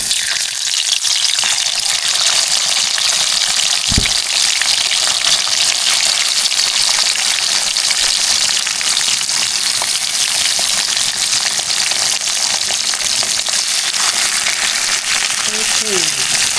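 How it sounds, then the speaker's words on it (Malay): Steady, dense sizzling of river fish frying in a hot wok of oil, continuous and close throughout, with a faint clink of a utensil early on. "so kita goreng dia sampai garing"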